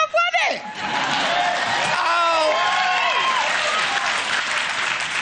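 Loud audience applause and cheering for an award winner, dense clapping with whoops and laughter swelling after a short opening, sustained and close with voices mixed into the crowd noise.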